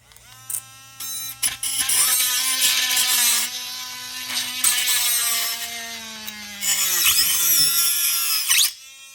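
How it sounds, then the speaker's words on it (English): A small, cheap hand drill whirs in bursts while drilling a 1:18 scale model car's roll cage, its pitch rising and falling as it bites into material, with short pauses between runs. "my trusty little cheap Chinese hand drill"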